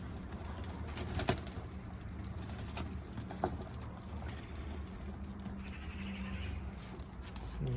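Pigeons flutter and coo faintly as they bathe in a shallow dish of water indoors in an office, with soft wing splashes over a low steady room hum and no talking.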